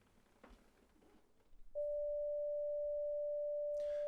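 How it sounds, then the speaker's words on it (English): A steady electronic sine-wave tuning drone holds for about two seconds after some soft background noise, then a brief burst of hiss at the end. "So here are what some of the other curves and other devices might sound like."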